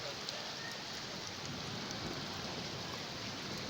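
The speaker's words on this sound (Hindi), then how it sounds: "इतनी तेज़ बारिश हुई है, अभी तो हल्की हल्की हो गई है।" Heavy rain falls steadily as a dense, even hiss that stays constant throughout, with no distinct thunderclap standing out.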